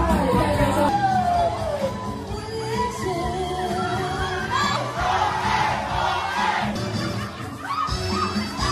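A crowd at an Indigenous wedding celebration shouts, whoops and screams in loud overlapping bursts, with cheering swelling and fading throughout.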